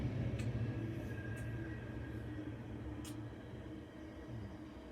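A low, steady rumble of a passing train fills the background, fading slightly toward the end.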